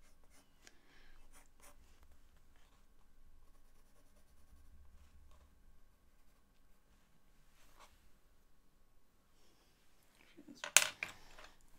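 Faint scratching of a pencil on paper while drawing horse heads, with scattered light strokes and small taps, a louder brief scrape near the end, and no voices.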